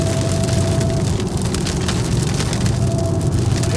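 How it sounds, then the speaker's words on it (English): Steady rain pours down outdoors at a car meet, a dense loud hiss of drops hitting surfaces that holds constant throughout with a faint steady tone underneath. "The rain is gonna go out that way."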